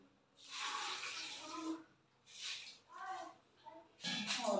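Water is poured in several splashy bursts with short pauses between them, into a pressure cooker holding meat with garlic and onion, in a home kitchen.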